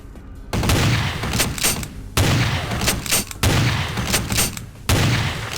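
Repeated bursts of gunfire from Vampire: The Masquerade – Bloodlines, four loud, close volleys separated by brief gaps, each a dense crackle of shots.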